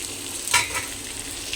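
Potatoes frying in a kadai, a steady bright sizzle of hot oil with one louder burst of spattering as the pieces are turned, close up and without talk.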